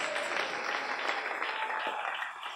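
A church congregation clapping during a Spanish-language service, dense continuous applause filling the room at steady loudness, close and unbroken, with no voices standing out.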